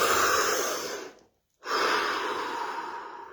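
A deep, loud breath drawn in and let out during a guided stillness exercise, airy and close, then a brief pause of silence before a second long, steady exhalation or inhalation fills the rest.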